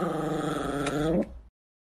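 Dog growling as someone pokes it, a low, rough, sustained rumble lasting just over a second, close and fairly loud, then cutting off into silence.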